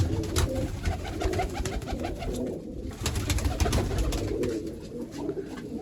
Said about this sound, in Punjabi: ਆਪਾਂ ਛੱਡਤੇ ਇਧਰ ਵੱਡੇ ਕਬੂਤਰ ਸਾਰੇ